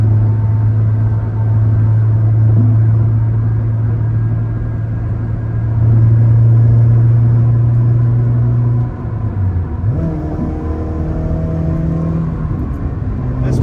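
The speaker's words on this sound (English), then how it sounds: "I'm in 6th gear. I'm cruising 75 miles an hour." A 2013 Honda Civic Si with newly installed cats cruising in sixth gear at 75 mph, giving a loud, steady low engine drone and road rumble heard from inside the car, with a shift in pitch and tone toward the end.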